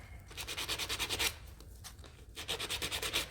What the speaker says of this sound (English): I'm just using the grittier sandpaper, so it just wears away